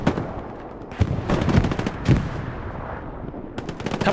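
Machine gun fire in the Hell Let Loose combat game, loud rattling bursts around the one-, one-and-a-half- and two-second marks with scattered shots and battlefield rumble between, then another short burst near the end.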